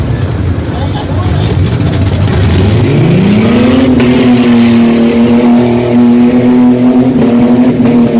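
A Jeep mud bog truck running without its rear drive shaft at a mud bog event, its engine roaring loud and steady, rising in pitch and then holding a sustained high drone, with crowd noise beneath.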